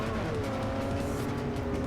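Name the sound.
Chevy Spark small 4-cylinder car engine in the video game Forza Motorsport 4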